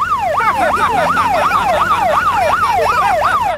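A loud wailing siren rises and falls in quick, regular sweeps, continuous and close throughout.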